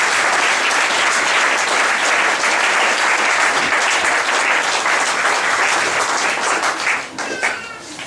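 A congregation at a church sermon applauds and cheers, dense sustained clapping filling the room for several seconds before thinning out at the end.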